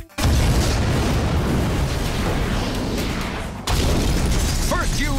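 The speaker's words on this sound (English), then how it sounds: "The aluminium powder in its composition creates a longer, more destructive explosion" A Torpex charge containing aluminium powder blows apart a wheeled shed, a huge sustained roaring blast that rumbles on, then a second loud surge of debris and noise near the end, with a voice faintly heard.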